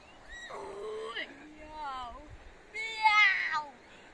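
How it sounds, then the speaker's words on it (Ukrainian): A cat meows several times, drawn-out and close, at a riverside beach beside a tent campground and holiday complex, while a person nearby also voices meows back at it. "Мяу. Мяу."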